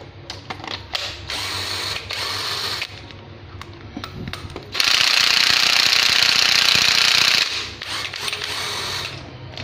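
A used Japanese cordless hammer drill, its battery down to 10 volts, rattles in loud mechanical bursts with brief pauses, then hammers in one sustained, harsher run of about three seconds before easing off.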